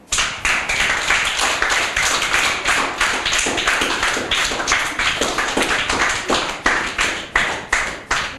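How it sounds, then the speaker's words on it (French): Audience applause closes a book presentation at a French reading event, a dense, steady burst of many hands clapping close by and continuing without a break for several seconds, with no voices over it. "on les applaudit bien fort"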